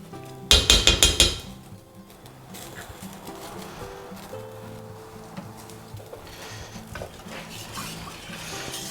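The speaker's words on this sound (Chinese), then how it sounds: "先把猪油给它融化一下" Lard melting in a wok while a spatula stirs, opening with a quick burst of sharp metal scrapes and clanks, then settling into a steady low bubbling sizzle with faint occasional clinks.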